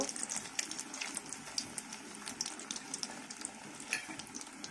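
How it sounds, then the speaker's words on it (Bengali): A chicken burger patty fries in oil in a kadai, giving a steady crackling sizzle with scattered sharp pops close by, and no voices over it. "এইভাবে আমি তেলে দিয়ে দিচ্ছি, দিয়ে একটু করে উল্টাই দিব"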